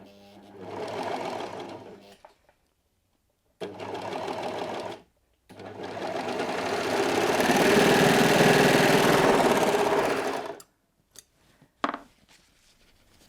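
Brother 3034D overlocker with a gathering foot stitching in three bursts of motor whir, two short runs and then a long, steady, loud stretch, with brief pauses and handling clicks between.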